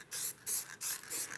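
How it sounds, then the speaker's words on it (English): Four short, evenly spaced hissing bursts of spray paint from a can onto a wooden bird feeder, close and fairly loud, with brief quiet gaps between them. "so what we're going to do is actually spray it"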